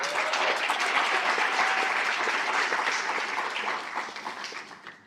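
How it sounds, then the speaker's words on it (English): Sustained audience applause at a medical school event, loud and dense clapping from a large crowd that tapers off toward the end. "So let's give a round of applause to Nayara."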